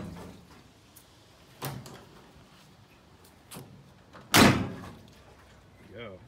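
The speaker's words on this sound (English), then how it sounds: "And doors all close nice." Doors on a 1962 GMC truck shut one after another: a few soft thuds, then one louder, solid slam near the end, with a quiet voice in the background.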